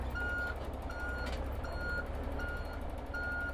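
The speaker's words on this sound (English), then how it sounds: "It's me reversing the truck." Loud reversing beeps from a 16.5-meter Volvo truck repeat at a steady rhythm, five evenly spaced tones over a constant diesel engine rumble.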